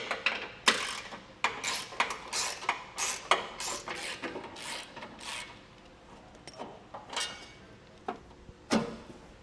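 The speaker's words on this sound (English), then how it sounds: "So I'm going to use a 10 socket for these and 15 for outside." Hand ratchet fitted with a 10 mm socket backs out bumper reinforcement bolts on a 2017 Chevrolet Equinox, sounding as quick bursts of close clicking pawl strokes with short pauses between them.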